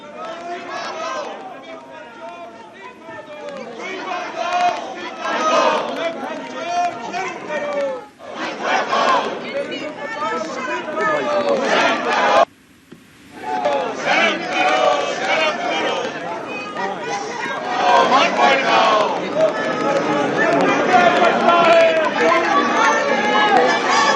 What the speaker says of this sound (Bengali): সংসদের বাইরে বিরোধীদের বিক্ষোভ স্লোগান